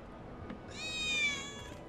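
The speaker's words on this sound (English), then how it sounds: "That was definitely a cat." A single cat meows once in the Final Fantasy VII Remake video game, a clear, fairly close rising-and-falling call lasting under a second against a quiet background.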